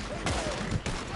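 Gunfire in Red Dead Redemption 2: two sharp, loud shots about half a second apart, with a voice speaking around them.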